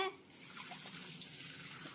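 Boiled milk curdled with lemon is poured slowly through a strainer while making paneer, giving a soft, steady liquid trickle that runs quietly for the whole stretch.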